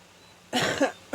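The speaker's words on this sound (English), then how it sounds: "I'm so sorry about the cough." Two close, sharp coughs after a short quiet pause, the first a double hack, the second a single burst.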